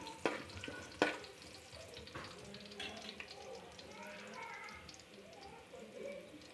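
Cut ginger pieces frying in a pan for corn fry, a soft continuous sizzle with a couple of sharp utensil clinks near the start and light scraping, with speech heard over it.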